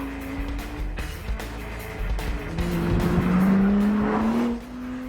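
A Honda NSX with four-wheel drive is thrown hard into a corner, its engine droning loudly as the tyres squeal in a rising sustained whine that swells then fades, heard up close without speech.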